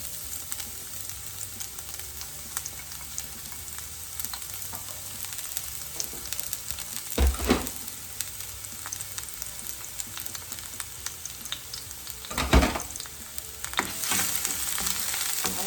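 Garlic fries in about a tablespoon and a half of oil in a hot pan, giving a steady close sizzle with two louder bursts of crackling and scraping as it is stirred.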